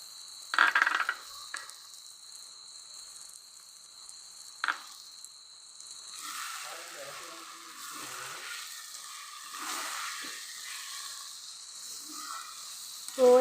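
Salt, chili powder and turmeric powder, along with sugar, hissing in a frying pan with oil: a faint, steady sizzle with a few sharp clinks and scrapes early on, then a broader soft crackle.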